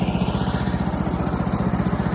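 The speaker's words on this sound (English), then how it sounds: "I've got the mill running" A sawmill's small engine runs steadily nearby, a loud, even chugging drone with a rapid regular pulse and no talking.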